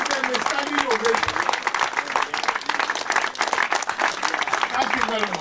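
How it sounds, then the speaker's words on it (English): An audience rises in a standing ovation at a handover ceremony, sustained crowd clapping with scattered cheers and a voice talking over the dense applause. "So stand up and clap for the action group. For this, give them a standing ovation."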